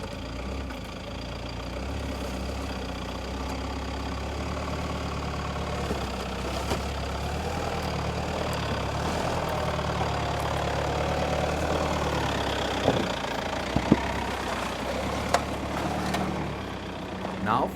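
A 4x4 engine with its terrain system set to mud mode, a steady mid-pitched drone that holds under the whole stretch with a few brief knocks and clunks, while a narrator talks over it.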